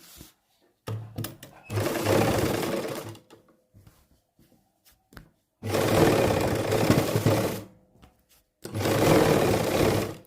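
A sewing machine stitches a seam along a salwar hem in three long, steady bursts of whirring, separated by quiet pauses with small clicks and handling sounds.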